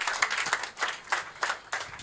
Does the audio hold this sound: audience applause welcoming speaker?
yes